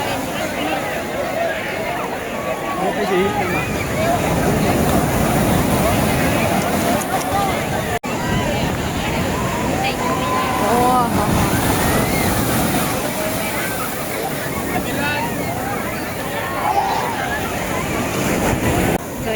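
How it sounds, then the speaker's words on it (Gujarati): Loud, continuous crashing ocean surf at a beach during a fair, with wind buffeting the microphone and people talking over the roar of the waves. "આટલા મોટા મોટા મોજા આવે"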